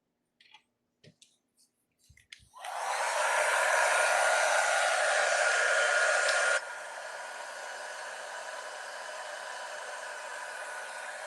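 A heat gun warming a wooden book box switches on after a few faint clicks and roars as a loud, steady blast of air, then drops to a lower but continuous whoosh close by.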